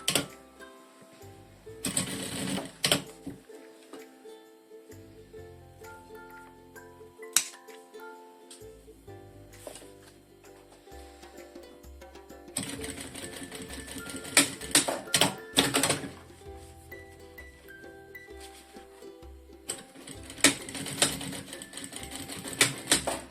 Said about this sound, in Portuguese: vamos pôr aqui assim e fazer uma costura a toda a volta